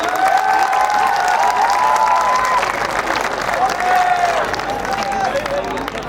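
Audience applause and cheering at a live Hindi poetry recital (kavi sammelan) at a college festival: a dense, steady wash of clapping from a large crowd throughout, with a sustained whistle or whooping tone riding over it.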